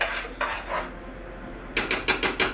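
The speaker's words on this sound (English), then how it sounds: "Flour, baking soda, salt in the bowl. Gonna give it a mix." Flour, baking soda and salt are whisked in a bowl for chocolate chip cookies, giving a few dry scraping strokes followed by a quick, rhythmic run of brisk rasps, close and without talk.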